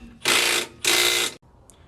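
Two loud bursts of a power ratchet or impact tool tightening bolts on a Ram 1500 brake caliper bracket, each about half a second long, close up with a brief gap between them, then quiet.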